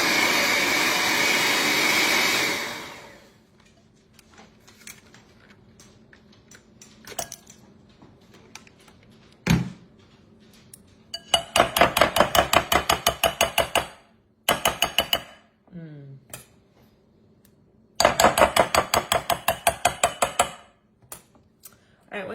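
A kitchen mixer whirs loudly at first while ingredients for a Thanksgiving treat are mixed at low speed. It then cuts off and gives way to quiet knocks, scraping and short bursts of a rapid rattling mixer.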